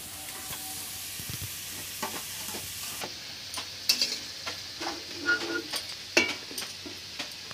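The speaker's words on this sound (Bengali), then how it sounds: "ওদিকে আলুটা ভালোভাবে ভাজা হচ্ছে" Potatoes frying in oil in a village kitchen pan, a soft background sizzle broken by several scraping stirs and clinks of the utensil, close and moderately quiet.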